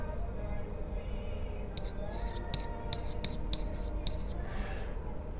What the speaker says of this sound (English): I'll write that right here.